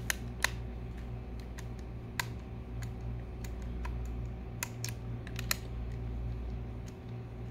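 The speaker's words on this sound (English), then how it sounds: "you are cutting the threads for the first time by screwing these in" Small screws being driven into a brand-new Game Boy Advance SP shell, cutting fresh threads, heard as faint, sparse clicks and ticks over a low steady hum.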